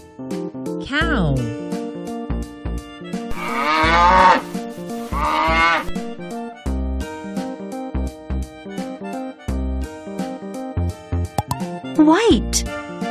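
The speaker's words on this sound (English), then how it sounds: "Cow." A cow moos in a couple of drawn-out, falling calls over a bouncy children's music backing, with a voice briefly speaking.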